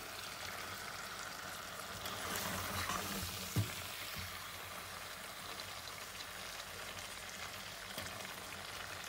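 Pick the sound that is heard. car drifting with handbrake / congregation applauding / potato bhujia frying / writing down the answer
potato bhujia frying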